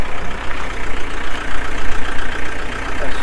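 A faulty 2016 Mercedes Citan van's engine runs loudly and close at full steering lock, with a constant rumbling drone and a faint uneven knocking from a suspected CV joint, and no talking.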